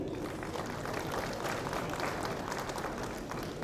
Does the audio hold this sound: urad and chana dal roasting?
no